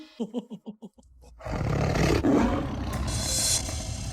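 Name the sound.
tiger roar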